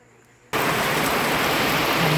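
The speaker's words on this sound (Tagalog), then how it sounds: "Ayun umuulan. Ayan, lakas ng ulan sa amin." Heavy rain suddenly pours down after a quiet moment, a loud, dense, steady roar of rainfall at a home in the Philippines that fills the scene and continues unbroken.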